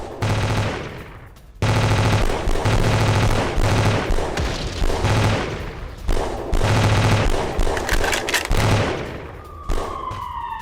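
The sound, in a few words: gunfire in a forest battle between Russian and Ukrainian soldiers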